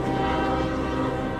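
A train passing at close range with its horn blaring, a loud, steady, sustained blast over continuous rumbling rail noise throughout the short moment.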